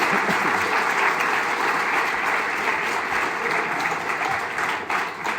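Steady, dense applause from a large audience honoring standing Rockford Park District team members, loud and sustained throughout with no clear speech.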